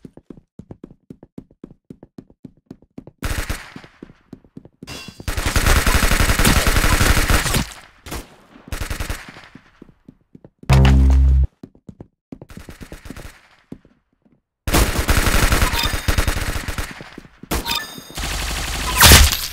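Gunfire from the Roblox shooter game Arsenal comes in rapid automatic bursts and single shots, loud and close, separated by gaps of quieter clicking.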